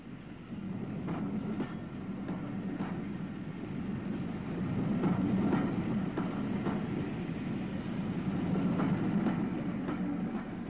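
An E1 tank locomotive pulls away with its train of narrow coaches on a heritage railway, a steady rumble with rhythmic wheel clatter and clicks over rail joints, moderately loud and unaccompanied by talk.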